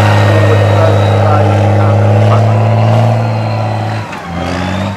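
A CVRT Scorpion armoured vehicle engine roars nearby as it shifts up through the gears into fourth, steady droning tones dropping and resetting near the end, with a voice talking over it.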